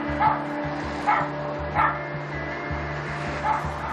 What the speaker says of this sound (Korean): 인기척을 느끼고 자리에서 일어나 짖기 시작하는 녀석.